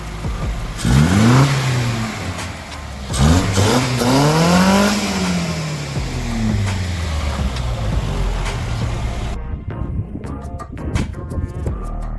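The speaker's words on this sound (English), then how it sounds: "Give me a rev." A Nissan 1400 Champ bakkie fitted with SU carburettors, revved hard and close by: two sharp climbing rev bursts, then a rougher idle that cuts off near the end.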